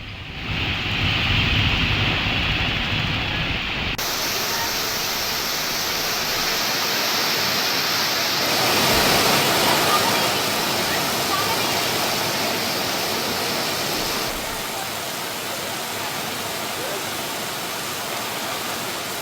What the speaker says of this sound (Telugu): షాద్ నగర్లో వర్షం కురుస్తోంది.